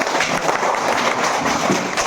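Audience at a small quiz competition clapping, a dense continuous patter of many hands, fairly loud and steady for the whole span.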